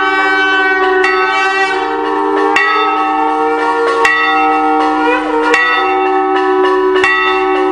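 A metal temple bell is struck repeatedly at the entrance of a Hindu temple, loud and close, each strike ringing on in a long shimmering tone that overlaps the next.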